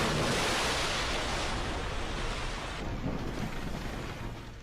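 Ocean waves roll where lava flows into the sea. A loud, continuous broadband surf roar is mixed with wind noise and eases slightly toward the end.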